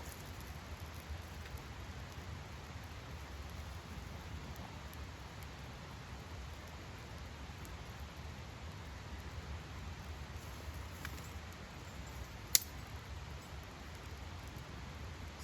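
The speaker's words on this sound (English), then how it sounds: "So even though it's been raining" Steady, faint rain patters in the woods as a soft, even hiss with one brief sharp tick partway through, and no voices.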